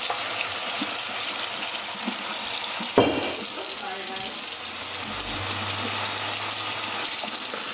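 Tap water runs continuously into a sink for washing thrifted items, a steady loud hiss with a brief splash near the middle and a voice murmuring underneath.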